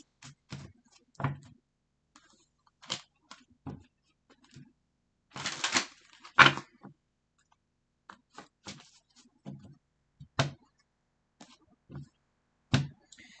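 Intermittent clicks and soft slaps of tarot cards being shuffled up close, in uneven bursts separated by quiet pauses, with one longer riffle midway.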